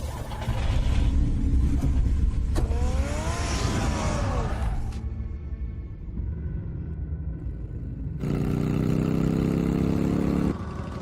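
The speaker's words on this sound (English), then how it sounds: "Get the car ready, Alfred." A car in the Batman Telltale video game rumbles and idles throughout, with engine tones shifting and a louder burst near the end, under a dense game soundtrack and no talk.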